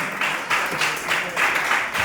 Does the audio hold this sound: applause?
yes